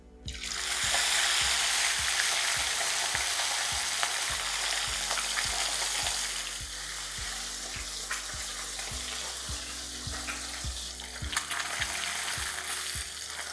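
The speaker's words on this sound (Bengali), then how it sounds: "এবার এই একই প্রসেসে আমি বাকি মাছগুলোও ভেজে নিচ্ছি।" Small mourola fish sizzle in hot oil in a pan, a loud continuous frying crackle with regular light taps and stirring, and no voices.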